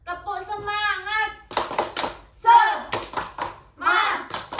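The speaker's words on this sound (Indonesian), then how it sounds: "Septium, tepuk semangat." A classroom of children chant a rhythmic spirit clap, their voices rising together in a sing-song pattern punctuated by quick bursts of hand clapping, loud and close.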